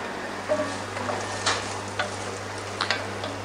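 Shallots sauté gently in butter over low heat, giving a soft continuous sizzle under a low steady hum, broken by a few small clicks and ticks from a pan or utensil.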